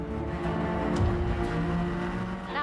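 Modern Mini driven in a drift slide, its engine droning steadily with shifting pitch throughout and a brief squeal toward the end, close and loud with no talk.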